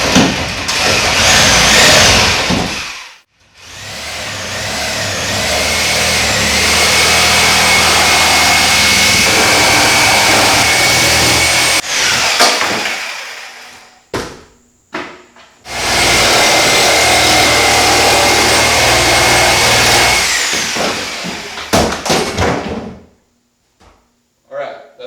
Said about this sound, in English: Alright, sawzall, your turn, let's go.